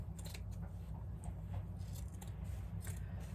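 Scissors snip the fabric seam allowance along the curves of a quilted Christmas stocking, producing a series of faint, sharp metallic clips scattered over a low steady room hum.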